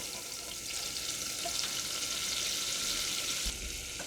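Melted butter and flour being whisked together in a pan for a white lobster soup roux, giving a steady, close, even sizzle throughout with no voices.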